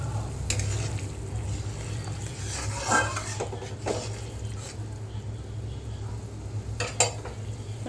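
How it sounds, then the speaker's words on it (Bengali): A Bengali pomfret fish curry bubbles as it boils in a pot, a steady low simmering hiss with a few sharp clinks of a utensil against the pan and no talking. "দেখো ঝোলটা টকবক করে ফুটছে"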